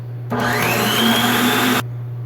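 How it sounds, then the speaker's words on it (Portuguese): An electric stand mixer switches on to beat cake batter for a pie, a close, steady motor whine with a rising pitch that runs about a second and a half before cutting off. "E eu vou ligar aqui novamente e continuar batendo."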